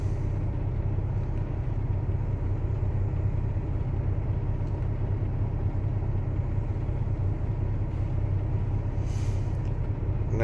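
A truck drives around a corner, heard as a steady, loud low engine rumble with road noise that continues unbroken, and a brief hiss near the end.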